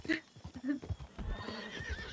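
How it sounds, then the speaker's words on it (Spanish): A brief, faint video game horse whinny with a few hoof clops, under scattered low-level sounds. "Ese caballo no tiene freno de mano"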